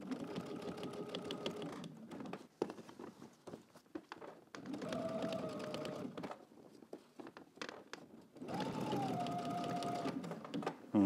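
A sewing machine stitches in the ditch along a garment waistband facing in three long running bursts, a steady mechanical whir with brief pauses and small handling clicks between them, close and clear with no talk.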